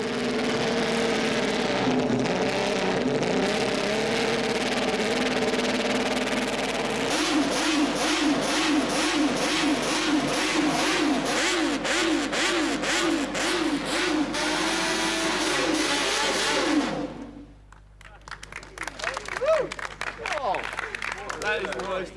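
A historic 1960s six-cylinder racing motorcycle engine revs hard and continuously, its rasping note rising and falling in rapid blips before cutting off, followed by scattered clapping and voices.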